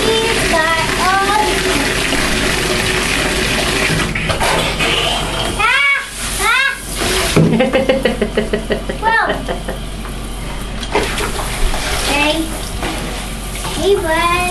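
Water sloshes and splashes steadily as a dog is rinsed in a bath of warm water, with people talking and cooing to the dog throughout.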